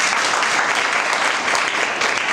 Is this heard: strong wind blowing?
no